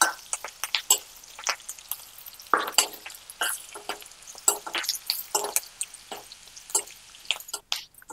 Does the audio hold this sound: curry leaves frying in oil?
yes